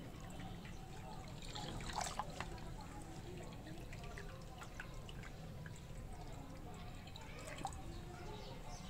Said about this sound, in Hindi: पत्ते निकाल लीजिए और पानी बहता हुआ जो है वो सारा खुद ब खुद निकल जाएगा